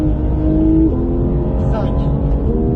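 Porsche GT3 RS accelerating hard on a track, its engine note climbing in pitch through a gear change, heard from inside the car at moderate loudness while an instructor's voice speaks over it.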